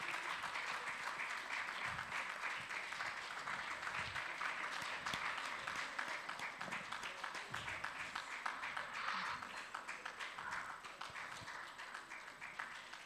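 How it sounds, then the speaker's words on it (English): Sustained audience applause fills a hall during a Nigerian Bar Association Lagos law week event, a dense steady clapping that holds strong throughout and thins slightly toward the end, with no talk over it. "Please, a round of applause for him."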